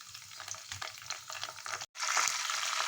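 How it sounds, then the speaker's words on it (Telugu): Mustard seeds, chana dal, urad dal, cumin and curry leaves fry in hot oil, giving a close crackling sizzle with scattered pops and stirring scrapes, a brief break, then a louder burst of frying hiss, with no talk. "పోపు చిట్టుపటలాడేటప్పుడు"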